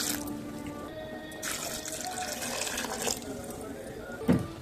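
Water poured into lentils in a pressure cooker, a steady liquid splashing and filling sound with a few louder bursts and a sharp clink near the end, fairly close.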